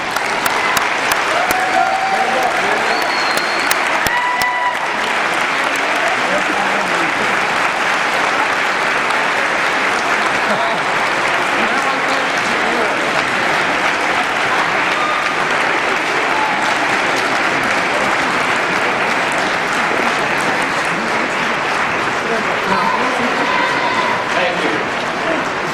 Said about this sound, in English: I would like to ask all of the graduates to stand up, turn around, and applaud to those that have supported you